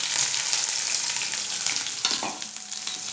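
Onions sauté in hot oil in a pan for chutney, with a continuous close sizzle and occasional stirring scrapes, and no voices over it.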